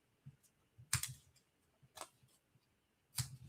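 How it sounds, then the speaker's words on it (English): Tiny craft scissors trim small excess pieces off a paper card, giving three crisp, close snips spaced about a second apart with faint clicks between them and no voices. "I'm just going to cut these little extras off"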